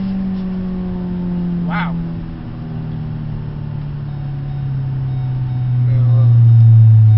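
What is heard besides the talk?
2012 Ford Focus SE manual car accelerating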